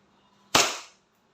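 A single sharp shot from a WE 1911 MEU Silver airsoft pistol, a loud close crack with a short fading tail in an otherwise quiet space.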